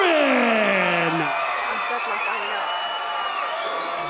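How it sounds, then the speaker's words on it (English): Hometown crowd roaring and whooping for fighter Tommy Aaron at a University of MMA fight night in Los Angeles, loud sustained cheering with high pitched screams and whistles. "Big cheers from a hometown crowd here for Tommy the Spaniard Aaron"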